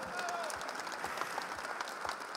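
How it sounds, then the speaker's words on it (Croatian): An audience at a klapa singing carnival marathon in Opatija claps in steady, faint applause that sounds distant and low throughout. "Čestitke i aplauzi."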